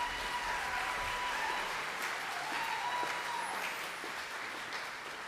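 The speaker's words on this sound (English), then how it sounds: "Give her a round of applause." Audience applause for a trombone player at a school band concert, a steady wash of many hands clapping that holds evenly throughout and tapers slightly at the end, with no talk over it.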